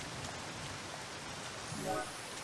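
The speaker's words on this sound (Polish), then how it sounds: "Oczywiście deszcz dalej pada" Steady rain in the video game Zero Sievert hisses evenly throughout, with a faint rising electronic tone from the game soundtrack near the end.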